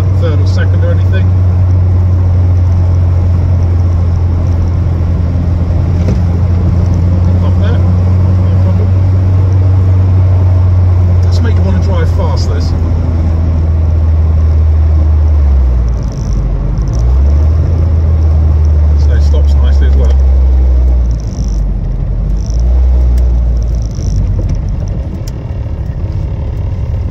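A 1983 VW Golf GTI with its 1.8 engine running close by, a steady low engine drone whose pitch shifts partway through before settling back to a rough idle.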